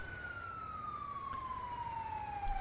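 An ambulance siren in the GTA V video game wails in a steady descending tone, moderately loud over a low background rumble, with no talking.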